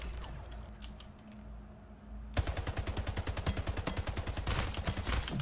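Automatic gunfire in the Splitgate video game starts abruptly after a quieter stretch and then runs as a steady, rapid stream of evenly spaced shots, sharp and close, continuing to the end.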